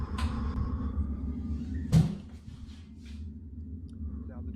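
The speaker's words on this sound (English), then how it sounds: "Now the door's closed." Door closing on its own in a home, a single sharp knock-like thud near the middle, with faint low hum and small rustles before and after.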